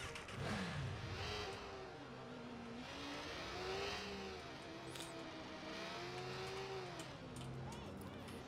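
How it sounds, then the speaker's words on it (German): A motorcycle engine in the Watch Dogs video game revs and rises in pitch, its drone rising and falling steadily throughout under game music and a voice talking. "Ich nehme ein neues Motorrad"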